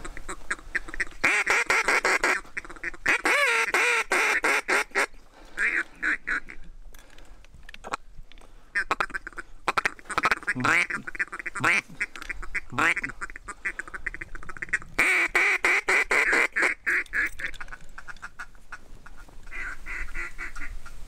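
Ducks quack loudly and repeatedly during a teal hunt on public land, coming in bursts of rapid, raspy calls separated by short pauses, nearby and dominating the scene.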